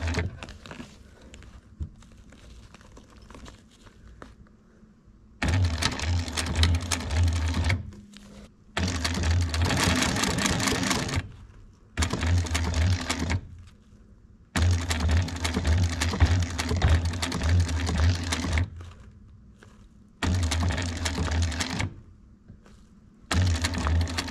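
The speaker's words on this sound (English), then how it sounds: "And we're gonna start sewing right there." Sewing machine stitching a cut-and-sewn zippered backpack: several bursts of fast mechanical whirring and needle chatter, each a few seconds long, separated by short pauses and quiet handling noise, close by with no talk.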